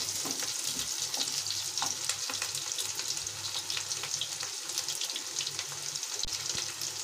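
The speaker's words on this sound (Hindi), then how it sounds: "इसी में थोड़ा सा भून लूंगी प्याज को।" Onions fry in a pan with a continuous crackling sizzle and faint stirring scrapes, close and fairly quiet throughout.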